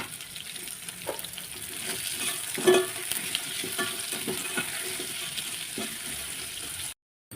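Mixed vegetables for veg pulao, salted and softening in a pan, sizzle steadily while a spoon stirs and scrapes through them, with a few louder clanks and a brief watery splash near the end; nobody talks.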